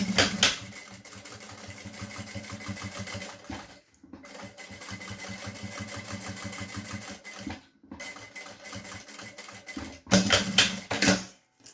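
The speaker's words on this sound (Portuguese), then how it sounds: "Vamos aumentar o ponto um pouquinho e vamos passar a costura aqui." Sewing machine stitching a topstitched seam on fabric for a small pouch, a steady close, rapid mechanical chatter running in long stretches with brief stops between, with no talking.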